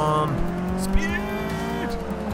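A race car engine in the video game Forza Motorsport 6 howls steadily at high revs, its pitch sliding up and down through gear changes, with a brief tire squeal and a voice talking over it.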